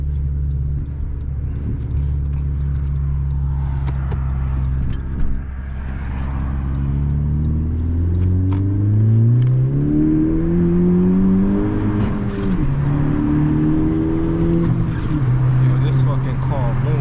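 A turbocharged Honda Civic Si pulls hard from inside the cabin, its loud exhaust note climbing steadily in pitch, dropping at a gear change, then rising again.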